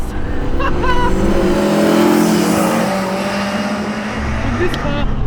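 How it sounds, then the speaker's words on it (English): A Toyota AE86 with a 20-valve 4A-GE engine revs hard inside the cabin, loud mechanical intake and engine roar climbing and easing, as someone talks over it. "whole lot of noises happening in this cabin of this AE86"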